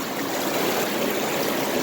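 Water running steadily through a flat gold sluice, a constant rushing, splashing flow heard close and alone for the whole moment.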